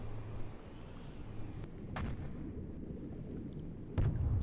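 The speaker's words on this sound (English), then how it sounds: "Feindliches Schiff getroffen. Feuer an Deck. Schwere Schäden." A torpedo strikes an enemy ship in the submarine game Uboat, heard as a few muffled, distant booming impacts over a low rumbling background.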